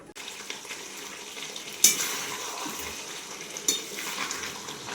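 Large chicken pieces fry in a pan with a steady, hissing sizzle and crackle. A couple of sharper spits or clinks stand out above the constant frying noise.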